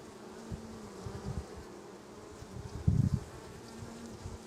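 Honey bees hum around an open hive during a Varroa mite treatment with Apistan strips, a soft continuous drone with a brief louder burst near the middle.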